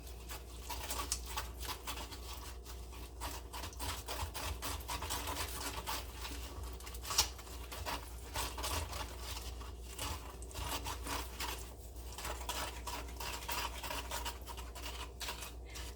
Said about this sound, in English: And I try to mix for a couple minutes.